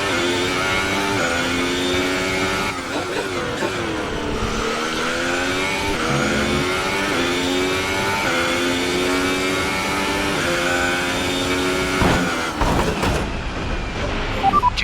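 F1 car engine from a racing video game, a sustained high-pitched whine that rises and falls through gear changes, loud and continuous with no talk over it.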